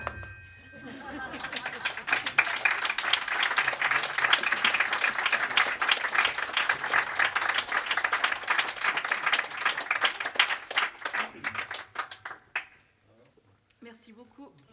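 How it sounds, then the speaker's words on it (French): Audience applause at a live French comedy and music show, dense and sustained clapping mixed with cheers that fade out near the end. "Ça fait plaisir tous ces applaudissements."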